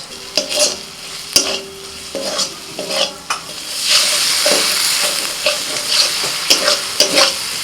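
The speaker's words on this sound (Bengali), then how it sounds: "সামান্য জল দিয়ে মশলাটা ভালো করে কষিয়ে দিচ্ছি" Spice masala of ginger, garlic, Kashmiri chilli and coriander powder with a splash of water is stir-fried in a pan, heard as loud, repeated spatula scrapes and knocks over a hissing sizzle that swells midway, close up and with no talking.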